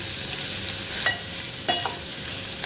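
A monsoon wild vegetable (kantola) dry dish being stirred in a pan, with a soft continuous sizzle broken by two sharp scrapes of the spatula against the pan.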